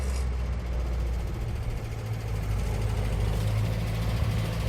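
A classic car's rebuilt engine idles with a low, steady rumble at close range, its sticky throttle cable letting it rev a little. No one speaks over the engine.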